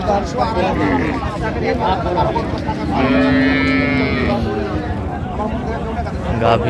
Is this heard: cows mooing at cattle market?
yes